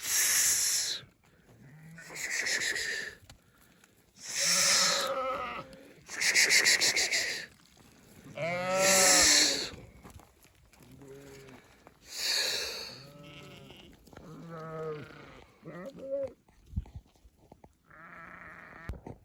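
Sheep from a farm flock bleat again and again, loud wavering calls arriving in a steady series of separate bursts, close by and with no talk.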